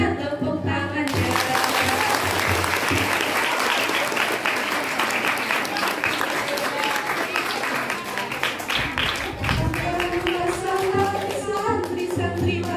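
An audience at a Hari Santri madihin competition in an Islamic boarding school bursts into sustained, lively hand clapping that swells and carries on for several seconds, with musical tones and voices audible around it.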